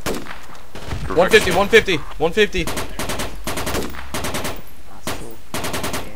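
Rapid bursts of automatic gunfire in the tactical shooter Project Reality, loud and close, crackling in repeated volleys across the whole stretch while a player briefly calls out numbers over the shots.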